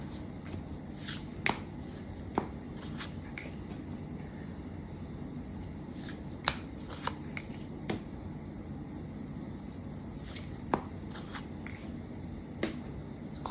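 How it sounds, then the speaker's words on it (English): Tarot cards shuffled by hand at close range: soft riffling and sliding with sharp intermittent snaps as cards slap together, irregular and quiet, with no voices. "I just want to sort of shuffle on camera to get certain base energies that are going on for you"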